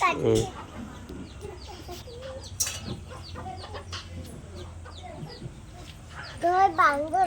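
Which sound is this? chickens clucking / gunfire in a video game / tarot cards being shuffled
chickens clucking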